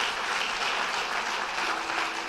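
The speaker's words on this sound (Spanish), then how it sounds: "Un aplauso para los guerreros de esta casa." A church congregation applauds, a dense steady wash of many hands clapping together throughout, loud and continuous with no voices standing out.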